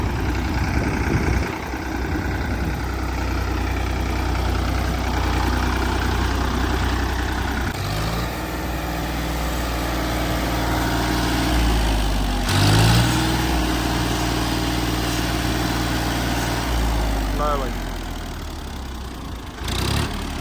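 A tractor engine idles steadily for the whole stretch, a loud low chugging drone with a few brief shifts in pitch and occasional clanks.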